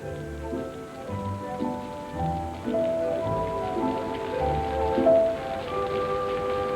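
Steady rain falls and splashes during the dance scene of the film Singin' in the Rain, with orchestral music playing over it.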